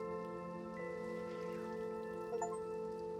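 Steady rain falls in the dark atmospheric video game Little Nightmares 2, a continuous soft patter close by under a low droning musical hum, with no talking.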